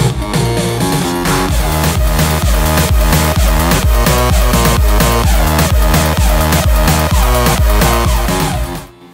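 Electronic dance track built from a punchy kick drum, hi-hats and percussion, a loud steady four-on-the-floor pulse with bright ticking highs, playing alone until it cuts off at the end.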